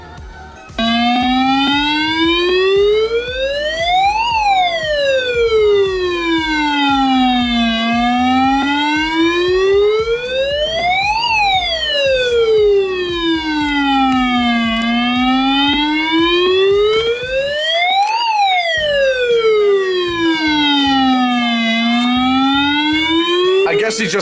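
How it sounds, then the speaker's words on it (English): A Jensen SRWS1000 weather radio sounds its siren alert, a loud, close electronic wail that rises and falls in slow sweeping cycles, repeating continuously for over twenty seconds with only a brief dip near the end. "That's the siren on the Jensen."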